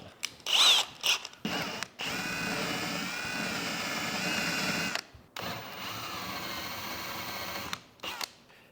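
A power drill whirs in two long runs separated by a short pause, with brief clicks and a quick trigger burst at the start, while building an adjustable desk from IKEA parts.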